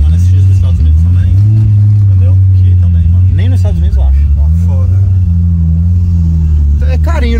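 A car engine drones loudly and steadily throughout, its pitch rising and falling as it revs, while people talk over it inside the vehicle.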